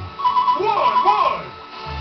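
A telephone rings in the SpongeBob video game, a warbling, sweeping electronic ring repeated a few times over game ambience and music.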